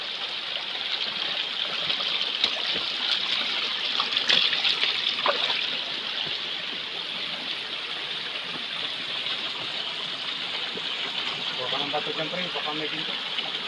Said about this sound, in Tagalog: Dalawa yung batis, ha. Hiwalay.